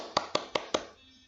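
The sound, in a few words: clapping hands, applause for the children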